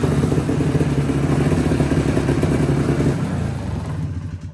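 Ski-Doo Tundra snowmobile engine running steadily and loudly up close after repairs, with a rough clattering drone that eases slightly in level near the end.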